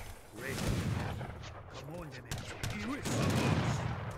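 Musketeers trade rapid volleys of gunfire in the strategy game Age of Empires III, with dense overlapping shots beneath game music and voice sounds, and someone talking over it.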